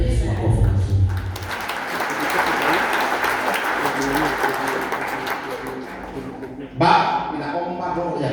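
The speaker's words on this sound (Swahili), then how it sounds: "Mpe Yesu makofi mazuri." A church congregation claps and cheers loudly for several seconds at a fervent Swahili-language service, with a preacher's voice and crowd noise mixed in and a sharp burst of sound near the end.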